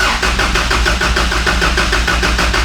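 A 1981 Toyota pickup engine cranks on a cold morning, its starter churning in a steady, rhythmic pulse that stays loud and close for the whole stretch, with no voices.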